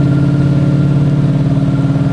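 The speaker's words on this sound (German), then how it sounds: "Du hast das Gefühl, dass der Motor gerade mal so aus dem Keller rausdümpelt." A deep, steady classic Mercedes engine idling at low revs, a low throbbing hum with even harmonics that stays constant and close throughout.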